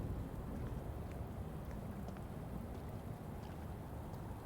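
Steady rain pours down in the detective game Shadows of Doubt, a dense, even hiss of falling drops with faint scattered patters, fairly quiet and with no talking.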